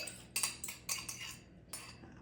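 A utensil clinks and scrapes against a bowl while eggs are mixed for bread dough, a quick series of sharp metallic taps and strokes close by, with no talking.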